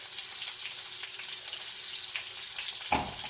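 Lamb chops sear in a pan with a steady, moderate sizzle and hiss, then a single soft knock near the end; no voices.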